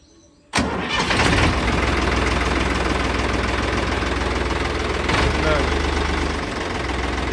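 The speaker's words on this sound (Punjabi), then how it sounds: "ਤੁਹਾਨੂੰ ਸਟਾਰਟ ਕਰਕੇ ਵੀ ਦਿਖਾ ਦਿੰਦੇ" A diesel tractor engine cranks and catches abruptly, then settles into a loud, steady, knocking idle that runs on continuously.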